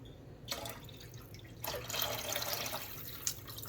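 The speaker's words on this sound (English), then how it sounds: "Then from here, you're going to add 2 cups of water." Two cups of water poured into a pot of Zuppa Toscana soup with chicken broth, a steady splashing, trickling pour beginning after a short quiet moment and continuing close by to the end.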